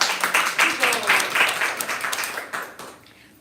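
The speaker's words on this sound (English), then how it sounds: "Let's give him a big round of applause" Audience applause at a Hare Krishna gathering at the Bhakti Center, lively clapping with distinct individual claps that builds, then fades out near the end, with faint voices mixed in.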